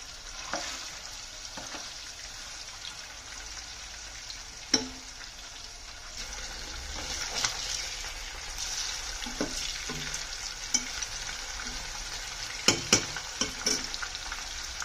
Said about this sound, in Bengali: যখন গরম তেলের ওপর মাছগুলোকে এইভাবে ছাড়া হয় আর তার যে আওয়াজটা আসে